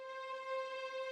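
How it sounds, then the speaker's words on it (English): One-shot string note for an R&B sample, treated with pitch automation meant to slide it upward, heard as a single faint sustained tone lasting about a second on its own. "Literally just a string note, but I added a little pitch automation to make it slide up"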